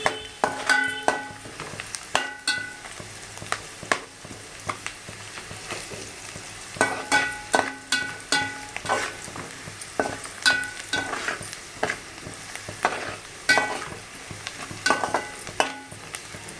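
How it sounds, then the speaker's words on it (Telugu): Onions frying in a pan for gongura chicken curry, a steady sizzle broken by repeated scraping clatters of stirring throughout, no voices. "ఆనియన్స్ బాగా వేగనివ్వాలి"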